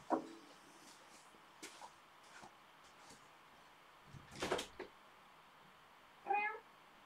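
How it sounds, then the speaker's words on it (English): A cat meows a few times at moderate distance in a quiet room, with short separate calls near the start, middle and end and faint background noise between them. "Hold on, there's a cat meowing."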